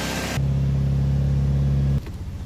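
A Toyota Vios engine with no power, misfiring and stuck near 2,000 RPM, holds a rough, uneven buzzing idle that steadies briefly, then drops back to a choppy pulsing rhythm, heard up close with no talk.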